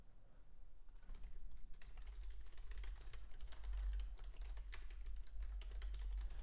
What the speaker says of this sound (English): If you do hear typing, that's just me making alerts in the private community.